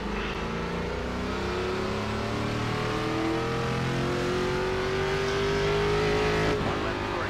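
Pack of ARCA race cars accelerating off the start at Atlanta in iRacing, a continuous loud drone of many engines with rising overlapping pitches.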